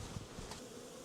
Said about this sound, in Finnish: kun mehiläiset on puhistuslennolla